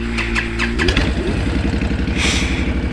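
A 2010 Honda Fury chopper motorcycle engine turns over and catches, settling into a loud, close, rapid thumping idle; no one talks.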